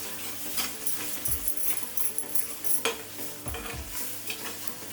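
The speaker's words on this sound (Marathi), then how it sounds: "आता मी परत ढवळून घेते म्हणजे एक जीव झाला पाहिजे" A dark chocolate modak mixture is stirred in a pan over a gas flame, with scraping spoon strokes and soft sizzling and a few louder knocks against the pan.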